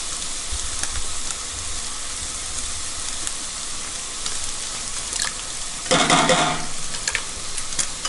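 Brown onions, red capsicum and a heap of jarred minced garlic cook in a pan, giving a loud, steady sizzle and hiss close up, with a burst of stirring near the end and no talk.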